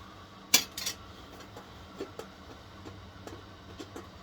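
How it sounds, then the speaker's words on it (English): A small plastic meal container's lid pops off with a sharp snap, followed by a few faint clicks and light plastic knocks in a quiet room. "Oh, lid comes off. It's supposed to come off."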